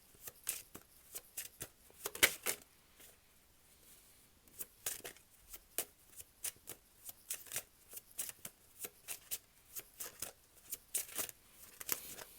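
Tarot cards being shuffled and drawn, crisp repeated riffling and snapping bursts in uneven clusters, close and fairly quiet with short pauses between.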